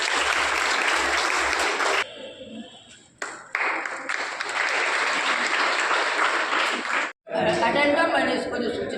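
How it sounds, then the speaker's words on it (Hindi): An audience at a school fire safety week event bursts into loud, sustained clapping, with chatter mixed in, a brief lull, and then another round of applause. "इनके लिए जोरदार ताली।"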